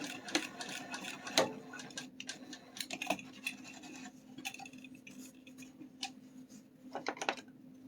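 Fleece fabric being cut for a wallet project, likely with scissors: a run of close, scratchy snips and rustles in uneven bursts over a steady low hum, with no talking.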